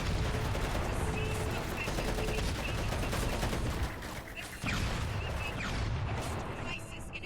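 Rapid gunfire and explosive blasts aimed at the player in the video game Crackdown 2, dense and continuous with a brief gap, loud bursts under a voice speaking.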